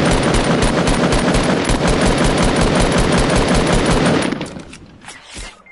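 Sustained rapid automatic gunfire from the Fortnite video game rattles loud and close for about four seconds, then cuts off, leaving a few fainter scattered shots and quieter game sounds.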